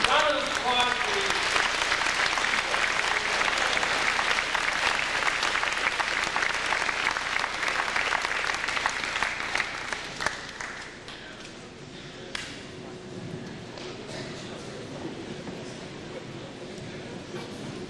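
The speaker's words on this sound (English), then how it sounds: "Round of applause, please." A school awards assembly audience applauds in a dense, sustained burst of clapping that tapers off after about ten seconds, leaving scattered claps and quiet room noise.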